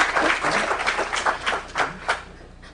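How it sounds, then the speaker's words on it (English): A small audience applauds panelists at the start of a discussion on Russia's 2011–12 elections, with scattered, uneven claps swelling and fading in bursts before thinning out. "So I hope you'll join me in giving a big round of applause for our panelists to begin."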